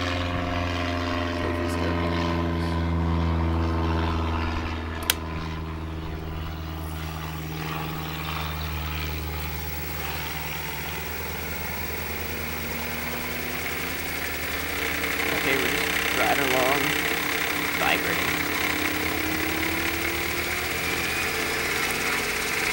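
An electric vehicle conversion drives with its automatic transmission shifting, a steady motor hum with tones that glide and change pitch as gears change, heard close.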